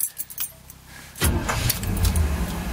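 Keys jingle in the ignition of a 1977 Chevrolet Concours Nova with a V8 and original miles, then the cold engine cranks and fires into a loud, rough, close running rumble.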